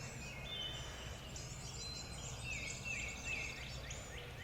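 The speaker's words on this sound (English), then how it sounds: "There's a bird gobbling." A wild turkey gobbler gobbles in the distance from its roost after a rainy night in Georgia, faint against steady outdoor ambience with other birds chirping nearby.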